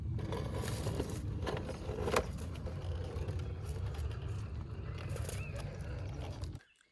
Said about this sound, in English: You'll have to excuse that car driving by.